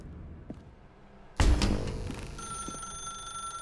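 In The Stanley Parable video game, a sudden clunk is followed by a telephone's bright electronic ring, which sustains steadily and fairly close in a quiet room.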